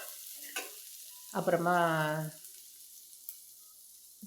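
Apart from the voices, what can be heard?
onions sautéing in a pan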